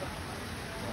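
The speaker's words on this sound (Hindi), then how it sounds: "बहुत तेज बारिश हो रही है" Heavy rain pours down on a street, a dense, steady hiss of falling water that stays loud and unbroken throughout.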